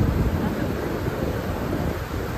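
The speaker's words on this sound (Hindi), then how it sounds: "ये देखिए देखिए हवा माशाल्लाह काफ़ी तेज़ चल रही है" Strong wind buffets the microphone outdoors, a loud continuous rumbling roar with no speech.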